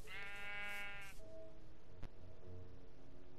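A Minecraft sheep gives one clear, drawn-out bleat up close, followed by faint game ambience and a soft thump.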